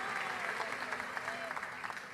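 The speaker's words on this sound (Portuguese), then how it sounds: "Quantos podem dar um aplauso ao Senhor? Aplaude Ele, aplaude Ele" A church congregation claps together in a steady, dense wash of applause, with a voice speaking over it throughout.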